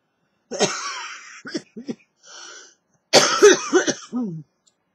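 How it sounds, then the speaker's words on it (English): Several close, raspy coughs in two bursts separated by a brief pause, loud and near against silence. "I'm sorry about the cough"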